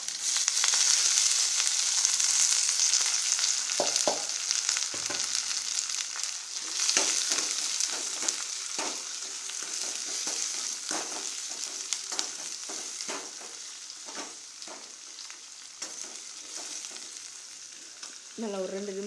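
Onion, tomato and green chili sautéing in a pan over tempered mustard seeds for moong dal: a loud, hissing sizzle that stays steady and slowly eases, broken by repeated close stirring scrapes.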